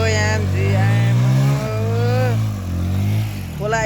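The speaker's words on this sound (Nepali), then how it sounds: "अब यहाँ चाहिँ बाइक फस्ने जस्तो भयो, त्यो धुवा पुरा उडिरहेको छ" A motorcycle stuck on a rough track revs hard while smoke pours from it; the engine drones loud and close for the whole stretch, rising and dipping with the throttle, and voices sound faintly in the background.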